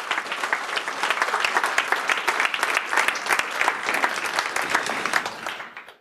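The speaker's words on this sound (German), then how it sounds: "Euer Applaus nochmal." Lively audience applause for young presenters at a youth hackathon final presentation in Munich, dense rapid clapping that holds strong then fades out at the end.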